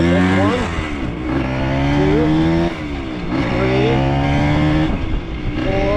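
A motorcycle revs hard and climbs through its gears, loud and close, each rising engine whine dropping as the next gear engages, repeated several times across the stretch.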